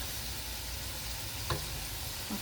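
Codfish and onions sizzle in a pan as they are gently stirred, a steady soft frying hiss with a brief scrape of the spoon near the middle.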